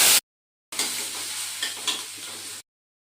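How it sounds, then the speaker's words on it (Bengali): Chopped onion, ginger, chili and nigella seeds drop into hot oil in a kadai and fry with a sudden loud, steady hiss and crackle that lasts about two seconds, then cuts off abruptly. "ভালো করে গরম হয়ে গেলে দিয়ে দেব কালো জিরা ফোড়ন, পেঁয়াজ কুচি, আদা কুচি,"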